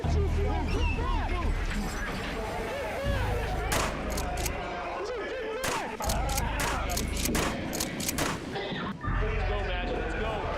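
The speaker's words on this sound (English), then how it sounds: "The control officer let off 5 non-lethal shotgun rounds." Non-lethal shotgun rounds fired by a control officer inside a prison, several sharp bangs in quick succession amid shouting and crowd babble.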